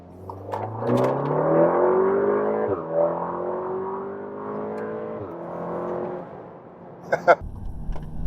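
A Golf R's engine revs up through several gears while accelerating onto an interstate, pitch climbing and dropping with each shift, loud and close, before easing off near the end.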